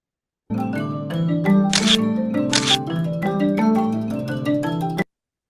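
A camera shutter sound effect used as an edit transition, heard as a dense burst of mechanical clicks and clatter lasting about four and a half seconds, loud and close, then stopping abruptly into silence.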